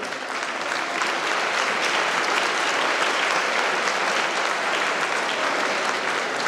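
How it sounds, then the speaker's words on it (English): Audience at a school or college nursing event clapping steadily, a dense and even round of applause lasting several seconds with no voices over it. "Let us applaud."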